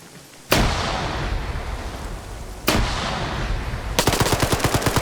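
Gunfire in a PvP video game match: two heavy booming blasts with long rumbling tails, then a rapid automatic burst near the end, loud and close with no voices.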